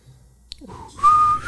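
A person whistles a single sustained note, clear and close, starting about a second in and holding steadily to the end after a short rising slide.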